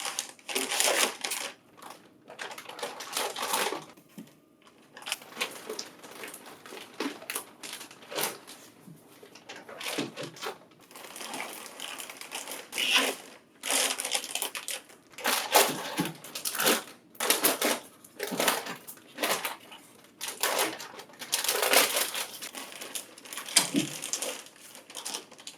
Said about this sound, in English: Remove the foam, and then open the plastic.